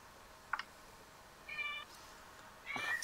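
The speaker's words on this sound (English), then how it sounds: "No, it's my cat." A pet cat meows three times, faint and at a distance, with short gaps between the calls over a quiet room background.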